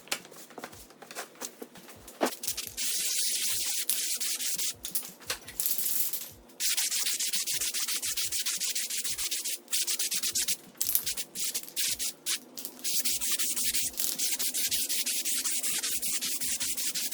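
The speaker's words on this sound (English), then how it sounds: "I'm gonna go ahead and scuff sand these before cleaning them off and then priming them" Bamboo-slatted buffet pieces being scuff sanded by hand before priming, a steady close rasping rub with short back-and-forth strokes and brief pauses, no voices.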